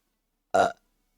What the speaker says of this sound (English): 1 sec, I have to burp.